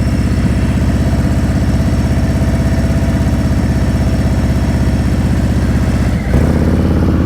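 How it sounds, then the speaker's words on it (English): A motorcycle engine idles steadily and close up during slow-speed riding practice, a constant low rumble that dips briefly near the end before settling back to the same even idle. "I don't want that motorcycle to move an inch until your foot's on the floorboard."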